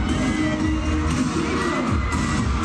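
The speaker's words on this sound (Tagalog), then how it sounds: "Matinding hiyawan ang dumagundong sa buong stadium" Loud, dense roar of fans cheering and screaming across a packed stadium at a K-pop concert at the Philippine Sports Stadium, continuous and unbroken with a few sharper shouts rising from the crowd.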